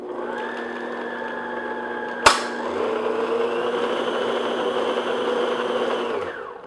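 A loud electric mixer runs steadily for several seconds, beating ground almonds and salt into a chocolate almond torte batter, with a sharp clack partway through as the beaters knock the bowl.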